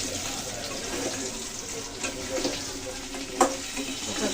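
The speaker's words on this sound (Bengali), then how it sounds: "ভেজে রাখা মাছগুলো আমি দিয়ে দিচ্ছি এখন।" Pieces of fried fish go into a sizzling curry of green banana and potato, giving a soft steady frying hiss with small stirring scrapes and one sharper clatter partway through, close-up and fairly quiet.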